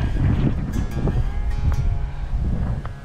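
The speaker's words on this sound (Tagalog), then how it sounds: "Sobrang lakas ng hangin, sobrang lamig." Strong, cold mountain wind buffets and roars across the microphone in a constant rush during a bike ride in Tinoc, Benguet, with faint rustling and a few thin clicks, no talking.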